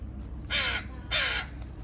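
A crow calling near the beach at an Oregon coast state park, two loud harsh caws in quick succession, close and clear over a low background hum.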